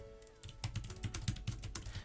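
Rapid typing on the Pomera folding e-Ink typewriter keyboard, a quick run of light, close key clicks and taps after a short quiet start.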